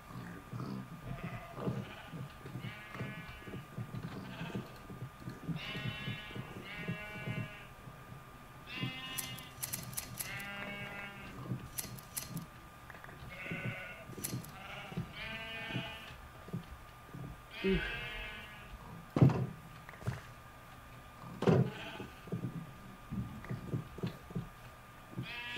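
Sheep in the Minecraft video game bleat repeatedly in short nasal calls, several animals overlapping and spaced irregularly, near and clear over a low background, with a few sharp clicks toward the end.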